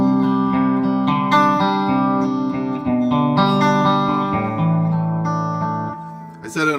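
Electric guitar played through an MXR M300 reverb pedal set to a regular, plain reverb: sustained chords and single notes ring out with a steady, close, fairly loud wash and decaying tails, no voices.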